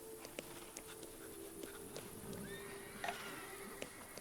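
Horse neighing in the video game The Thaumaturge, faint whinnies mixed with clip-clop hoof taps and soft ambient game noise, heard at low level without talk.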